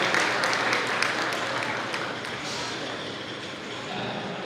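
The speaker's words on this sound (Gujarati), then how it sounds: "ફરી એક વખત જોરદાર તાળીઓથી વધાવીએ." Sustained applause from an audience at a business seminar hosted by the Lions Club of Savarkundla, a steady wash of clapping that slowly fades over a few seconds.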